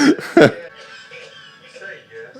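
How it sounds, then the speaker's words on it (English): A couple of harsh coughs up front, close and loud, then a low murmur of talk and background noise. "I hate coughing sounds"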